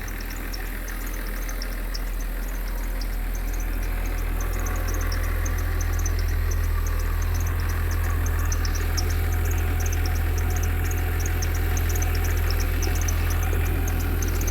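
Mercedes 300SE M103 engine running on a Voltarent ECU, idling steadily with a constant low hum and rapid ticking, close and continuous with no talk.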